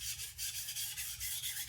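A dull, badly abused knife is sharpened at about 15 degrees, giving steady, close rasping strokes in an even back-and-forth rhythm with no voices.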